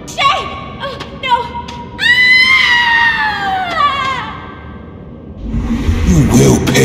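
A woman's long, rising scream from the Shank video game, loud and sustained for about two seconds, preceded by short cries and followed by a thud and scuffling noise.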